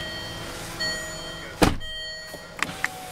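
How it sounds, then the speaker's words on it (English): The soft-closing door of a 2012 Range Rover Evoque Coupe shuts with one muffled thunk, followed by a few small clicks and light mechanical taps in a quiet interior. "There's soft closing doors."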